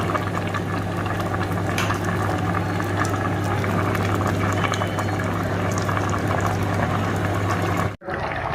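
A pot of aviyal, boiled vegetables with grated coconut, green chilies and jeera, bubbles steadily and loudly on the stove in an even, continuous simmer that cuts off abruptly near the end.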